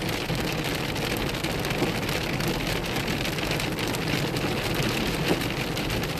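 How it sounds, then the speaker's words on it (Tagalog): Heavy rain, reportedly mixed with hail, pours down steadily in Calgary, a dense, loud, unbroken patter and hiss on surfaces close by, with no voices. "At kapag umuulan nga dito sa Calgary ay may kasama ng yelo."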